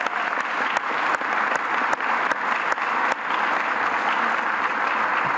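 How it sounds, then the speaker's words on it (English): A large breakfast audience claps for healthcare workers, advocates and human service providers, a dense, loud, steady round of applause with a few sharp louder claps standing out, sustained for several seconds with no talk. "Let's give them a round of applause, please."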